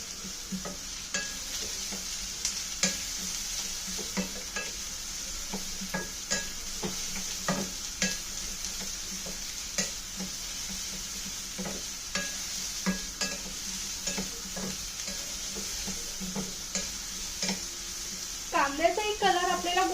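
Onion sautéing in a pan with ginger, garlic and cumin, stirred steadily with a utensil that gives repeated scraping clicks over a soft continuous sizzle. Brief voice near the end.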